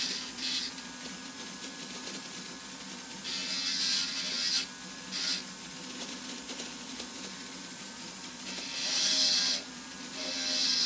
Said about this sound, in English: I'm going to take a flame burr, and I'm going to, with a prong shape to the under bevel, I'm going to grind away any extra.